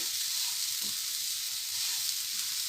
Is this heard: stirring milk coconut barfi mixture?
yes